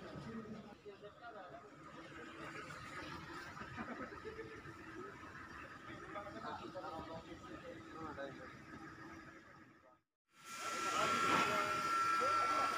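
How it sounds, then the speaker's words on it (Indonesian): A vacuum pump evacuating the refrigerant circuit of a water chiller during service runs as a steady, close mechanical drone, cuts out briefly near the end, then returns louder. "sekarang sudah di dalam proses vakum selama kurang lebih 1 jam sudah berjalan"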